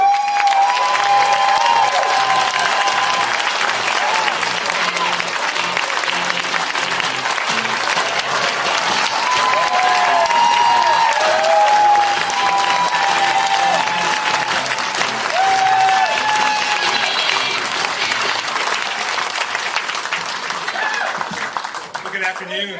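A crowd at a campaign rally applauds and cheers, a loud, sustained wash of clapping with scattered whoops and shouts over more than twenty seconds, fading slightly at the end.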